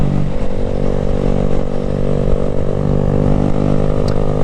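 A Honda Grom motorcycle engine runs loud and close while off-roading in canyons, a constant throaty rumble with slight rev fluctuations and clatter across the whole span.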